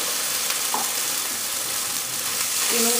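Tomato paste frying in a pan for sweet and sour meatballs, a steady close sizzle and hiss running throughout with a few faint scraping touches.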